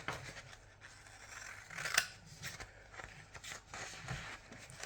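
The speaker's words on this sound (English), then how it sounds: "So you can turn your paper sideways like I'm doing, or just cut it the same way it was." Scissors cut through paper as a rainbow ninja star is made, giving soft snips and rustles, with one sharper snip, over faint room noise.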